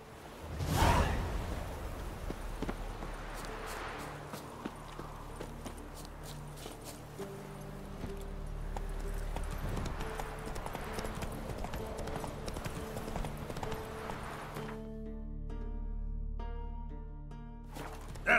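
Hoofbeats from Roach, the horse in The Witcher 3, clip-clop steadily through an in-game ride over a bed of music and ambience, with a brief whinny-like breath near the start and swishing movement.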